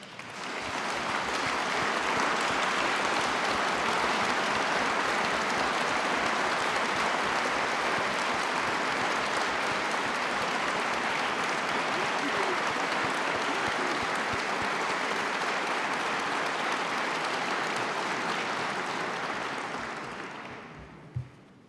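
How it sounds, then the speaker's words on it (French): Sustained, steady applause from a large audience at a formal academy ceremony beneath a domed hall, an unbroken wash of clapping lasting around twenty seconds before fading out. "nos applaudissements"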